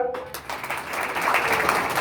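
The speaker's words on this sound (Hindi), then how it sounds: "उनके लिए जोरदार तालियां" Loud applause from a crowd at a farmers' rights political gathering, a dense continuous clatter that swells after a brief gap and stays steady throughout.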